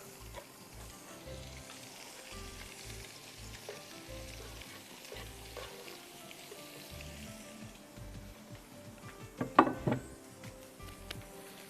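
Onion, garlic, black pepper, salt, dill and spinach cook in butter with a low, continuous sizzle. A brief burst of clattering stirring comes near the end, and no one speaks.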